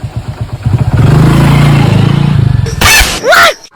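A motorcycle engine sputters, catches and settles into a loud pulsing idle close by, then ends in a couple of sharp revs and a fading departure.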